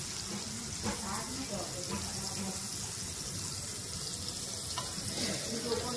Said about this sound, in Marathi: बघा आपल्या मस्त डीप फ्राय होत आहेत.